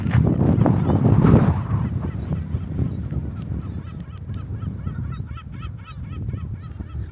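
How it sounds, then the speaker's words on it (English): Geese honk repeatedly in a noisy flock by Hurstwood Reservoir, a dense chorus heard from a short distance over wind noise on a walk. "Some noisy birds over there."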